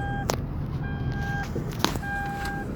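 A Daihatsu Terios seatbelt warning chimes in repeated short electronic beeps, three separate tones sounding faintly inside the cabin over a steady low road hum.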